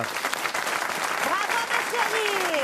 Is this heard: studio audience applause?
yes